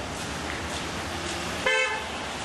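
A single short car horn toot sounds near the end, cutting through steady, loud street and traffic noise.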